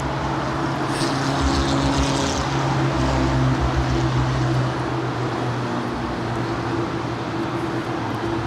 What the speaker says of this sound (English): We have another cargo 777 touching down.